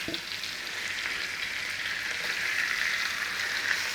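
Meat for an Irish stew sautés in a very hot pan, giving off a continuous close sizzle and crackle that builds slightly toward the end, heard alone without any speech.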